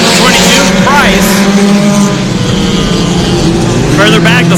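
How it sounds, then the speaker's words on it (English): Stock and sport cars roar around a NASCAR Division III enduro track in a loud, continuous engine drone with passing pitch sweeps, while a race announcer talks throughout. "Further back, the sport cars are coming through."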